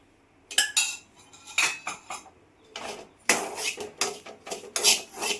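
Dry coconut powder roasting over low heat in a pan for village-style poha laddus, a metal spoon scraping and clinking against the pan in bursts of irregular strokes, close and fairly loud, with no talking.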